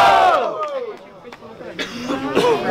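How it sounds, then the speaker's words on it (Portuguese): At a student rap battle in Guarulhos, São Paulo, a crowd close by shouts and cheers loudly in rising bursts of mixed voices that swell again toward the end. "barulhos pra quem gostou das rimas de Breno"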